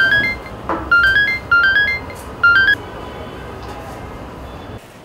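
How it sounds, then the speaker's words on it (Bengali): A mobile phone rings with a repeating melodic tone in bursts, loud and close, before a pause; a voice speaks partway through. "ফোনটা ধরেন না, কি বলতে চাই একটু শুনেন"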